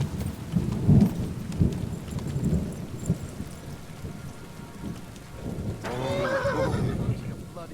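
A horse whinnies loudly near the end, a rising then falling neigh, set in a medieval camp in the video game Kingdom Come: Deliverance II, with rain, distant thunder and muffled footsteps or hoof thuds before it.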